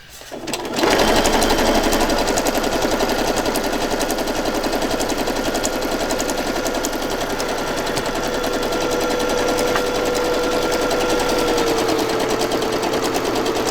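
A sewing machine stitches a paper journal page in a coffee and chocolate themed handmade journal, starting abruptly and running continuously as a loud, fast, even rattle with no voices over it.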